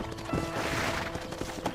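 Horse hooves clopping in the Western video game Red Dead Redemption, a steady run of dull hoofbeats over a busy, full game soundtrack.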